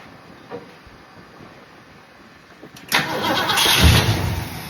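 A 1966 Ford Mustang engine, fuel poured in, fires briefly during a spark check: a quiet stretch, then a sudden loud, rough burst of combustion and cranking close by that holds for under two seconds.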